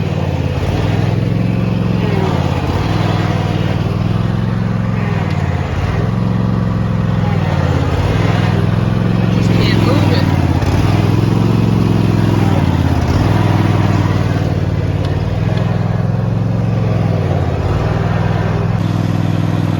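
A Lincoln car's engine runs loud and close as the stuck car is moved, surging in repeated rhythmic revs over a constant mechanical drone.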